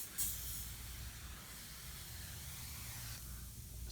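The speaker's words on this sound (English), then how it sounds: "Spray a nice layer and just let it eat away." A cleaner is sprayed from a spray bottle onto a shower or bathroom wall, giving a steady close hiss that carries on for several seconds over a low background rumble.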